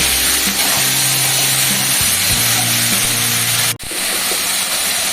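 Potatoes are poured into poppy seed paste in a hot pan, producing a loud, broad sizzling hiss that runs steadily and close, with a brief sudden break near the end before the frying resumes.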